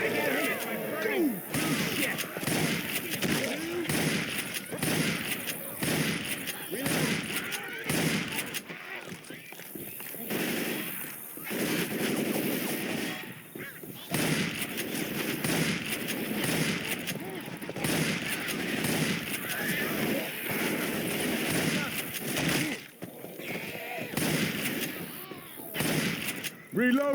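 Repeated shotgun blasts and other gunfire from a Left 4 Dead Dark Carnival level, loud bursts scattered across the clip amid footsteps, with in-game voices calling out between shots.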